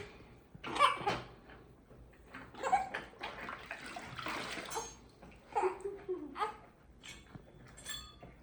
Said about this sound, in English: she's bathing her with the leaf water that we bought